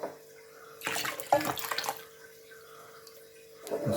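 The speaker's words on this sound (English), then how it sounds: "I'm gonna just rinse this meat out" Green coconut meat rinsed under running tap water, a close splashing gush that starts and stops, with a brief burst again at the end; no talking.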